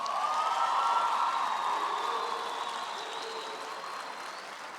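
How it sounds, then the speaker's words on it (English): Graduates at a health sciences graduation ceremony give a warm round of applause, a steady hall-filling wash of clapping that swells early and slowly fades over several seconds. "I'm going to ask our graduates to give a warm round of applause to the people who have supported them"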